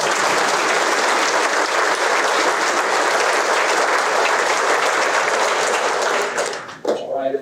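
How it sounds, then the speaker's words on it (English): Loud sustained applause from a large audience at an undergraduate pilot training graduation ceremony, dense clapping that holds steady for about six seconds before quickly dying away. "Please round of applause for them."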